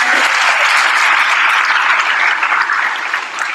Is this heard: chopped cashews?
no